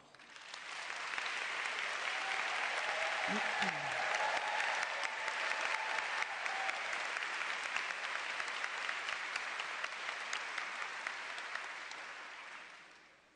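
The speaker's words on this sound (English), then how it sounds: "You may now applaud." A large audience at a DAR Congress business session claps steadily for over ten seconds, a dense sustained roar of applause that swells early and fades out at the end.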